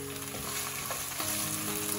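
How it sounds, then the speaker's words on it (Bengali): Onions fry in a pan with whole spices for a Bangladeshi beef bhuna, a steady close sizzle with a few soft scrapes of stirring and no voices. "পেঁয়াজগুলো হালকা ব্রাউন না হয়ে আসা পর্যন্ত আমরা নাড়তে থাকব।"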